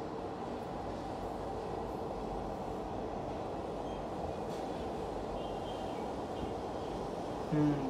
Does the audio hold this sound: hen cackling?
no